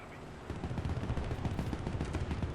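Anti-aircraft guns firing in a tank video game, a fast, steady stream of low, thudding shots repeating rhythmically at moderate loudness, with no talk over them.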